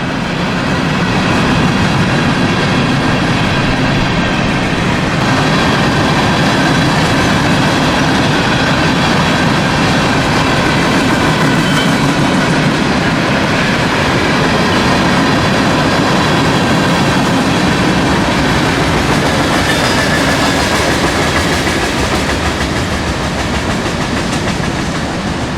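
A long CSX freight train rolls steadily past before dawn at Folkston, loud and close, with continuous rumbling and wheel clatter throughout and no talk.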